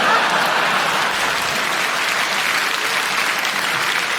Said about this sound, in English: I do love I get a round of applause always